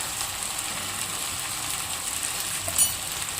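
Tomatoes frying in a pan for chukaku chutney, seasoned with salt and turmeric, give a steady, even sizzle throughout, with one small clatter near the end and no voices.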